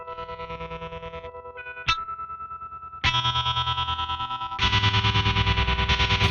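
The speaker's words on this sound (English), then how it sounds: "there is a intro where it's like got this tremolo on, this really fast tremolo, and it uses a volume pedal swell-in" Electric guitar through a NUX Cerberus multi-effects unit with a very fast tremolo, its chords pulsing in rapid regular chops and swelling in on a volume pedal, growing louder in stages.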